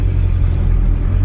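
A lifted Toyota Previa minivan with a possible engine misfire drives along, its engine a loud, steady low rumble close by, continuous with no speech.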